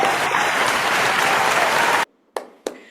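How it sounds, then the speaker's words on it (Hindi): Loud, sustained applause from an audience at a plant-based nutrition event rolls on for about two seconds, then cuts off sharply, followed by two brief isolated bursts. "सबके लिए जोरदार तालियां हो जाए"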